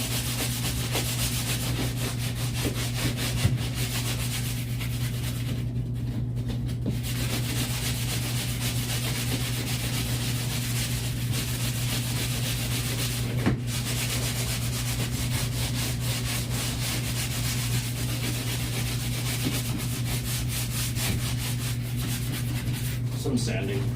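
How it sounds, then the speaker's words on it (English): Continuous wood sanding, an unbroken rough rubbing and rasping with a steady machine hum underneath, with a few brief pauses along the way. "Some sanding right now"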